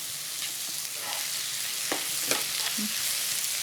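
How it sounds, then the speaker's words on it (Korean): Steady sizzling hiss of vegetables, mushrooms and fish cake frying in a hot pan for japchae, with occasional scraping and stirring clatters, no voices. "여기 야채 볶는데 따로 간은 안 하겠습니다"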